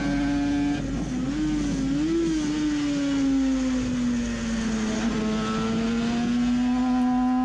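Onboard sound of a Suzuki RG500 racing motorcycle's engine, a loud continuous two-stroke drone whose pitch dips and climbs as revs rise, close and steady throughout with no talking.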